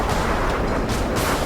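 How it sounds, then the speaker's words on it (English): An F-15 fighter jet firing a barrage of rounds into a mountain peak, a loud rumbling burst of gunfire with heavy booming roar, continuous and close, no voices. "The F-15 fires a barrage of rounds into the peak."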